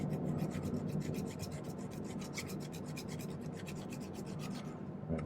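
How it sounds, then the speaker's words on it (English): Steady rhythmic rasping of a metal file on a silver ring, quick back-and-forth strokes repeating evenly throughout, close and fairly quiet. "I can now use the file to clean it up a little bit."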